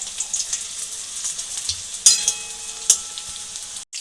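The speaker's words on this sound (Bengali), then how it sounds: "এইভাবে সব পকোড়াগুলো আমি ভেজে নেব" Chicken pakoras sizzle and crackle steadily in hot oil, with a few sharper clinks of a utensil against the pan, then a brief silence near the end.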